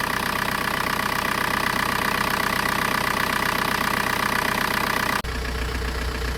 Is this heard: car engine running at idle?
yes